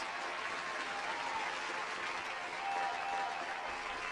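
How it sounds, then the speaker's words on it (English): Sustained applause from a crowd at a marching band signing day event, steady and dense clapping throughout with no break. "let me just give you another round of applause"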